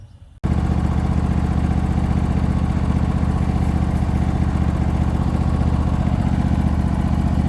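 A John Deere LA145 riding lawn mower starts up after a brief quiet moment and runs at a steady, loud engine drone close by, with no voices.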